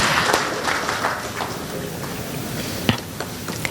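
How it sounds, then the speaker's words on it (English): An audience claps at the inaugural session of a two-day tax conclave, a dense, even patter of many hands that stays steady with no voices over it. "Please give all of them a big round of applause"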